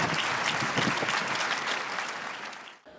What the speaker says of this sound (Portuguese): Um aplauso à nova Beata.